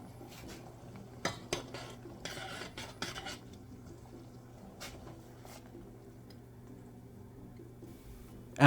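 A spoon stirs sweetener into chai tea that has been simmered down in a pot, giving a cluster of light metallic clinks early on before settling into quiet, faint scraping. No one talks.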